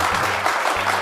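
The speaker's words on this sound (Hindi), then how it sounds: "वाह जोरदार ताली" Loud applause from a studio audience on an Odisha reality show, a brief dense burst of clapping at steady volume with no pauses.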